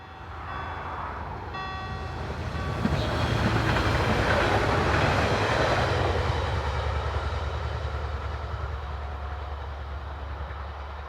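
A DB Class 642 diesel multiple unit passes heading west, building from a low engine drone to a loud, broad rumble and rush that fades slightly as it moves away, with no voices.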